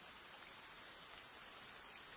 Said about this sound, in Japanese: 雨だし、